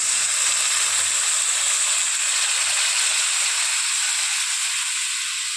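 Spiced masala for an aubergine curry simmers in a pan after water is added, giving a loud, steady hiss and sizzle with faint low bubbling underneath.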